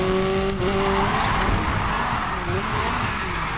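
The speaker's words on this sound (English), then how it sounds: "Dude, drifting the straightaways." A car drifting in Need for Speed Heat, a Nissan 180SX, with a continuous loud engine roar and sustained tire squeal close up throughout.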